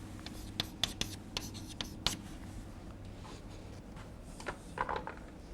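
Chalk or a marker taps and scratches across a board as an equation is written out in a lecture, in short faint strokes over a low room hum.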